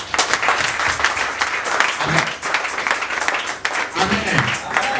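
A church congregation at a Sunday service bursts into applause and cheering, dense steady clapping filling the space with voices mixed in.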